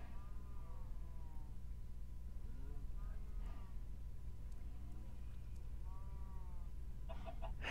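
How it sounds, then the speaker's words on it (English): A chicken in Minecraft gives a few faint clucks scattered across a quiet game scene with a low background hum, and a short burst of clicks near the end. "oh my god, chicken, don't do that."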